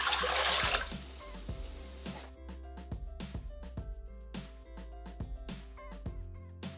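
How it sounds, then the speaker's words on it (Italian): Water pours into a Thermomix (Bimby) mixing jug: a loud rushing splash for the first second, followed by quieter intermittent trickling and gurgles with occasional knocks, close by. "Iniziamo la ricetta mettendo all'interno del boccale l'acqua."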